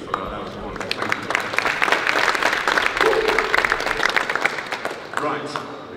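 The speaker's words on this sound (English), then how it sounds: "Give yourselves a round of applause, actually, for that." An audience at a talk on smart packaging breaks into sustained applause, a dense, fairly loud patter of many hands clapping for several seconds.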